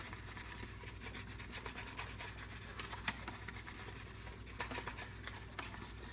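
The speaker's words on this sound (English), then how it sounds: "I usually try to make about 3 revolutions clockwise. Make 3 revolutions counterclockwise." A vinyl record being cleaned with a Groovmaster label saver, scrubbed round in circles: quiet, continuous brushy rubbing with faint scratchy ticks, close to the mic.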